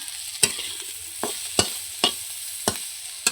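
Potatoes with salt, turmeric, ginger-garlic paste and chilli powder fry in a pan, a spatula scraping it in six or so crisp strokes over a steady, close sizzle.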